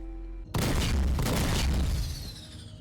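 Neutron laser cannons in the Star Citizen space game fire a loud, booming volley that bursts in suddenly after a brief low hum and keeps rumbling densely before tapering off.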